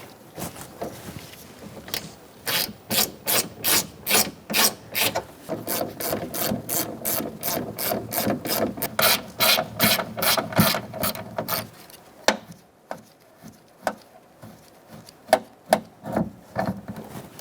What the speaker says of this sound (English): using a 10mm socket, I'm going to unbolt our motor.